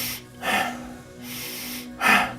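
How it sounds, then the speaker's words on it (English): Inhale-emphasized breathing exercise: sharp, close breaths drawn through the nose in a repeating cycle, a strong inhale followed by softer airflow, with no talk. "just start breathing in a way that's inhale emphasized"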